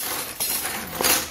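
Metal kitchen ladles clink against each other as they are handled, giving a few light, bright clinks over a noisy background.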